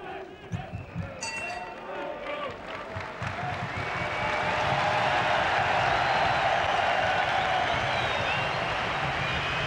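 Sellout boxing crowd at Borderland Hall in Magdeburg, Germany, a broad roaring murmur that swells and holds steady, with a few scattered claps and thumps early on, loud and continuous.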